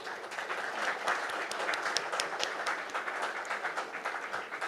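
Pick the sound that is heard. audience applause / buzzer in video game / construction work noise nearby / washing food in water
audience applause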